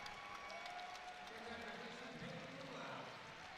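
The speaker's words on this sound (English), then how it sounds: "They heard the crowd. They loved it." A crowd at a women's college basketball game between Gonzaga and Queens, heard as a steady wash of applause and arena noise throughout, distant and fairly faint with mixed voices underneath.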